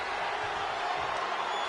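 Dense, steady roar of a large wrestling arena crowd at a WrestleMania night, continuous and fairly even with no distinct bursts, filling the whole stretch.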